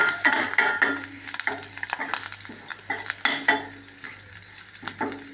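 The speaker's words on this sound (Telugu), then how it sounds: "అర స్పూన్ పసుపు పచ్చివాసన పోయేదాకా పచ్చివాసన పోయేదాకా ఇలా కలుపుకోవాలి" Turmeric frying and being stirred in a pan for spicy puffed rice, with irregular scraping stir strokes and clinks over a steady close sizzle.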